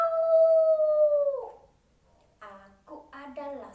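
A person imitates a wolf howl with a single drawn-out, rising-then-falling vocal howl lasting about a second and a half, followed by a brief pause and then someone speaking.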